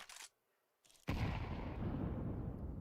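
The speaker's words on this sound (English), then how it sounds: "Decent nade, actually not as good as I thought." A grenade detonates in a CS:GO esports match: after a short burst and a near-silent gap, a sudden loud boom hits and rolls into a long, dense rumbling decay that fills the rest of the moment.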